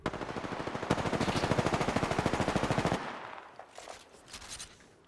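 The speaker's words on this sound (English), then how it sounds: "Hostile spotted! Opening fire on the enemy." Rapid automatic gunfire from Apex Legends rattles in a steady, dense stream for about three seconds, then cuts off to quieter game ambience with faint distant pops.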